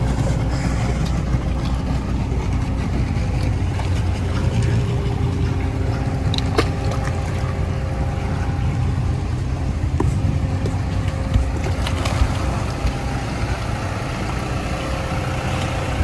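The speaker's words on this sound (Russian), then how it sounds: "Трактор подстраховывает еще лебедкой с тросом, чтобы не утянуло все это в воду." A tractor engine runs steadily while winching a catamaran on a cable into the water on Hiva Oa in the Marquesas Islands, a continuous loud rumble with faint clanks throughout.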